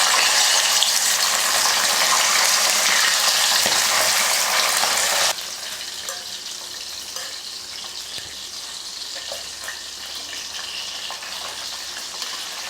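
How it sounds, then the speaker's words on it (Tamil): A loud, steady sizzling hiss of fish frying in hot oil, dropping abruptly to a quieter crackle partway through. "எண்ணெய் காஞ்சிருச்சு. இப்போ மீன் போட்டு பொரிச்சிக்கலாம்."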